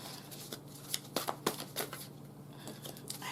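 A deck of tarot cards is shuffled nearby, quiet riffling and flicking bursts in an uneven rhythm, a few sharper snaps standing out amid soft papery rustle.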